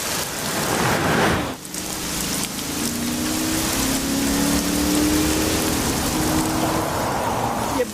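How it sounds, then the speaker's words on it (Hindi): Heavy rain pours down in a dense, loud, steady hiss with a short dip early on, a low rumble running beneath it. "एक तो आज बारिश भी बहुत तेज है"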